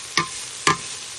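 Steak frying in a pan keeps up a soft, steady sizzle close by, broken by two sharp scraping clicks as it is moved around.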